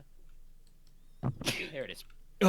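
A single sharp sneeze bursts out near the end, preceded by a quiet spoken remark from the same person.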